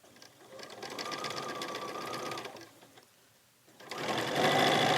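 A sewing machine stitches fabric triangles for a quilt block, its presser foot guiding the seam, running in a steady close whir, pausing briefly, then starting up again louder.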